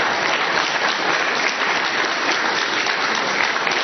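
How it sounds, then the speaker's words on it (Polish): A crowd at a Polish sports club celebration applauds a goalkeeper in steady, dense, loud clapping that runs unbroken from start to finish with no voices over it. "dajcie mu wielkie brawa"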